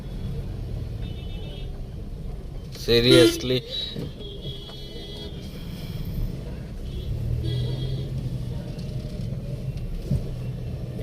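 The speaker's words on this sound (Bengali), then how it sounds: "এই জ্যামের মধ্যে গাড়ি চালানো খুব টাফ" A car moving slowly through heavy city traffic gives a low, steady engine and road rumble throughout, with a brief louder burst of nearby noise and a person speaking over it.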